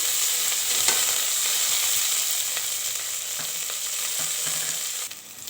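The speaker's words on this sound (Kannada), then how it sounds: "ಈಗ ಸ್ವಲ್ಪ ಕೊತ್ತಂಬರಿ ಸೊಪ್ಪು ಹಾಕ್ಕೊಬೇಕು." Coriander leaves stir-fry in a pan with coconut for palak paneer pulao, a loud continuous close sizzle with occasional stirring scrapes.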